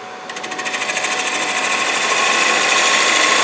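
A wood lathe turns a bowl while a cutting tool shaves it, the speed rising a little. A steady, loud whirring hum builds over the first second and then holds, with a fast pulsing rattle and no talk.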